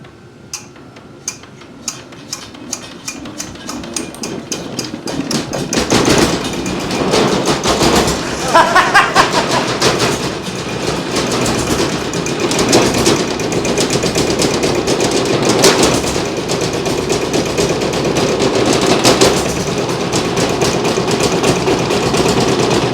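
An old stationary engine, bought at auction and started with a hand crank and decompression lever, turns over with a few slow isolated beats, then fires and settles into a steady, loud, rapid chugging run that continues alone.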